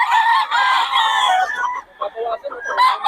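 Young roosters crow at a chicken farm, several loud overlapping crows filling the first half, then shorter broken calls and clucks close by.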